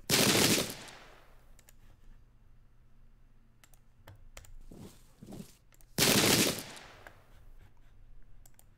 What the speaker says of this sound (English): Our cannon does work.